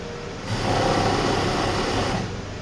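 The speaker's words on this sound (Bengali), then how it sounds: "লক করে পরে পুরোটা সেলাই নেবে" A sewing machine stitches cloth while a one-piece dress is being made, running as a steady mechanical whir with rapid needle ticking for about two seconds, starting and stopping cleanly.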